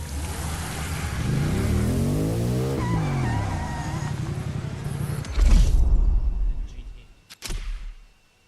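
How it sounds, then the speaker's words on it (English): A Ferrari 288 GTO in the racing game The Crew Motorfest, its engine revving and shifting in a sustained close roar. Rising and falling tones come through, then a louder low surge and a final short burst, with some talking. "The car you're about to drive in this opening event is none other than the first Ferrari in the supercar bloodline, the Ferrari GTO."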